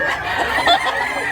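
A gamecock rooster gives a short, close burst of clucking, brief and fairly clear against light background noise.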